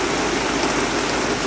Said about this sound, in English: Now the hail's coming.